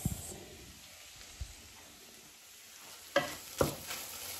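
Ground beef sautéing in a pan with garlic and onion for eggplant a la tomate: a low steady sizzle with a few sharp stirring scrapes and clatters near the end, no voices.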